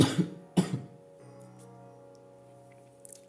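Two sharp, close coughs from one person in quick succession, followed by quiet with a faint steady hum.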